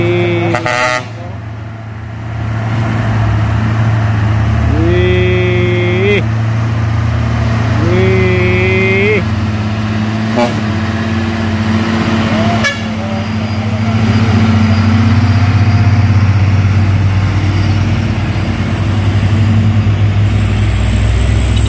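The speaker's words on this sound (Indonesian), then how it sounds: "Oke, di sana dua unit truk Fuso." Two Fuso trucks work up a steep hill road, their heavy engines droning loud and close throughout, broken by several blasts of a truck horn, including two distinct honks a few seconds apart.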